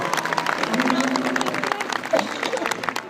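An audience claps for a club president at the Ilgaz Mountain Culture and Arts Festival with the Ankara Seymenler club, loose scattered applause over a crowd murmur, with voices and a faint tone running underneath.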